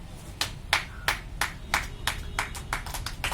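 About a dozen sharp hand claps ring out at a storytelling festival, spaced in a loose, slightly quickening rhythm, moderately close and fairly quiet against a soft background.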